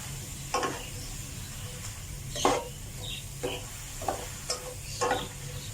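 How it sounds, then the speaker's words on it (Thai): Dried tofu skin being stir-fried in a pan, with a steady low sizzle under repeated scraping and clattering strokes of the spatula at an uneven rhythm, close and alone with no talk. "ผัดให้เข้ากันก่อน"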